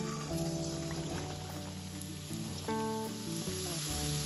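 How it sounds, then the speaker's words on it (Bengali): Puli pitha, coconut-filled rice dumplings, frying in hot oil in a wok, giving a steady, close sizzle throughout with soft stirring clinks and no talk. "এখন আমি একে একে পিঠেগুলো ভেজে নেব"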